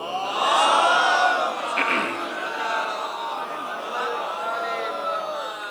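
A religious majlis crowd in Haider Colony, Lucknow, raises loud chanted slogans together, a dense wash of many voices swelling strongly at the start and then holding steady at a slightly lower level.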